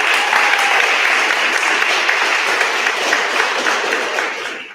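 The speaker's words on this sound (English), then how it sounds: "big round of applause for everybody who entered." Audience at an art competition opening and awards ceremony applauding the entrants, a loud, dense, steady burst of clapping from many hands that fades out at the end, with no talk over it.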